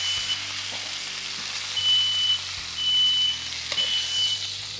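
Tenderloin sizzles steadily as it sears in a hot pan, with a high smoke-alarm beep chirping intermittently over the frying.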